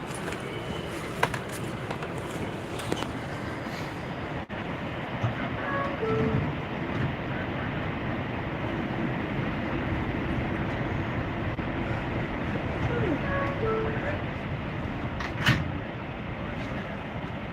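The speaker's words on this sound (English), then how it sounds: "This is a Flushing Main Street bound 7 local train." A New York subway 7 local train runs with a steady rumbling roar and rattles, while a few sharp clanks and faint squeals rise above it.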